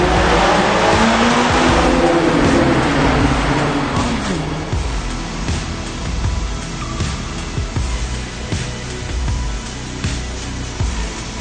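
Ferrari California T supercar driven on Monte Carlo Rally mountain roads, a loud continuous roar of engine and road noise with tyre rumble and scrubbing, strongest in the opening seconds and then steadying through the rest.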